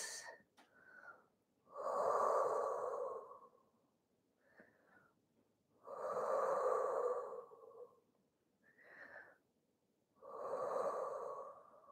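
Slow, deep breaths during a Pilates hip-flexibility stretch on a mat: three long, audible breathing cycles, each a drawn-out airy exhale followed by a shorter inhale, heard close and without speech.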